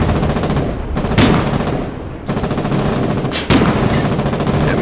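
Dense bursts of rifle and machine-gun fire in the war game Foxhole rattle on almost without pause, loud and close, with heavy blasts mixed in.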